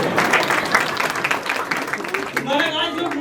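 An audience at a hospital retirement function breaks into clapping, a fairly loud, continuous patter that thins as a voice starts speaking toward the end.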